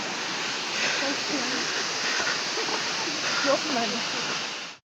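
The Dustaqxana waterfall in Astara roars in a constant, dense rush of falling water close by, while someone talks over it throughout.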